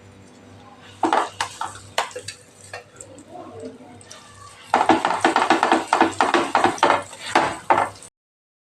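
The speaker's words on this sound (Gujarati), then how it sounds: "આપણે જે લસણવાળી ચટણી તૈયાર કરેલી એ આપણે અહીંયા ઉમેરી દઈશું અને એને સાતડી લેવાની છે" Garlic chutney goes into a pan for a Kathiyawadi vegetable dish, bringing a rapid run of metal spoon clinks and scrapes as it is stirred and sautéed, with a voice talking throughout.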